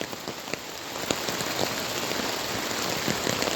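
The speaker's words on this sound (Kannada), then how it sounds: "ಈಗ ಸಹ ಮಳೆ ಬರ್ತಾ ಉಂಟು ನೋಡಿ" Heavy monsoon rain pours steadily onto a flooded plantation, a dense continuous hiss with scattered nearby drops spattering on surfaces, and no voices.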